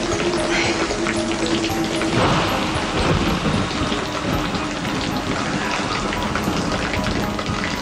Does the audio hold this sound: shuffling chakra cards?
no